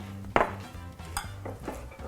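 Flour is mixed into cookie dough in a bowl, with a spoon knocking sharply against the bowl a few times and softer scrapes between the knocks, up close.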